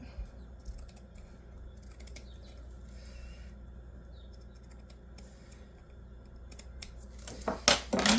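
Scissors snip rows off a sheet of paper for a paper gift bag folio, with faint steady cutting under a low background hum, ending in a few louder, closer snips and crinkles.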